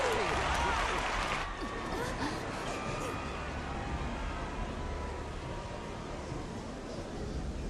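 Crowd cheering in the video game Final Fantasy XIV, a dense wash of cheers and applause-like noise that is loudest at the start and then settles into a steady background roar.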